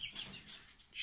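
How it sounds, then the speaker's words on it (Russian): A month-old Pushkin breed chick, a young hen, gives a few faint, high clucks and peeps alongside soft rustling or wing flutters, close by and brief. "Вот курочка такая."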